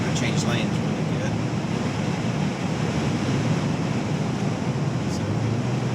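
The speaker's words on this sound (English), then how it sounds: "I guess we're getting directly into the wind or something. I can definitely feel it, hear it." Wind roar buffets a 2018 Jeep Wrangler Unlimited at highway speed, a loud continuous broadband rush with no breaks, filling the cabin throughout.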